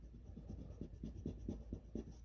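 Pencil lines being erased on paper: a steady run of soft, rhythmic rubbing strokes, close and quiet, with no voices.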